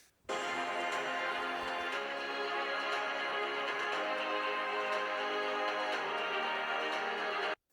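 Music playing through Razer Blade 16 laptop speakers at 50% volume, a dense steady mix that starts and stops abruptly.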